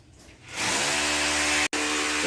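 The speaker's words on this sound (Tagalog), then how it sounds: "So grinder lang. Gagamitin natin dyan kasi stainless siya." An angle grinder bites into stainless steel for a 2-inch PVC pipe elbow job, a loud steady whine that starts after a quiet half second and cuts out briefly near the end.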